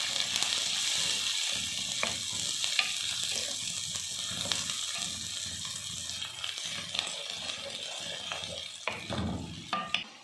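Two chopped onions fry in oil for a white chicken korma, kept pale rather than browned: a steady, fairly quiet sizzle runs throughout, broken by scraping stirs and occasional louder spatters, with no voices.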